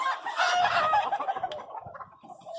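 Farm chickens clucking and calling close by in a busy, overlapping flock chorus, with a brief crow-like cry partway through and scattered softer clucks toward the end.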